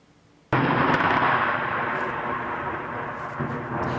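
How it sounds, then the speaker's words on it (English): Thunder after a lightning bolt: a sudden loud crack bursts in, then a broad, steady rolling rumble holds for several seconds, with no voices. "That's either thunder, which follows a bolt of lightning"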